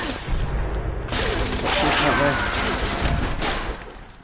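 Gunfire in Fallout 76: a sustained, dense burst of rapid automatic shots lasting a few seconds, loud and close, with a voice speaking over part of it.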